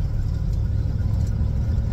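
An old Ford camper special farm truck driving in third gear, its engine a steady low rumble filling the cabin, loud and continuous throughout.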